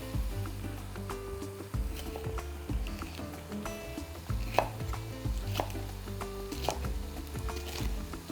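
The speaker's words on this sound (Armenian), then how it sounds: "Մեկ քաղցր պղպեղ կտրատում ենք նույն կերպ" A knife chops a sweet pepper into medium pieces on a cutting board, with steady, close, crisp thuds repeating at a fairly even rhythm and no talking.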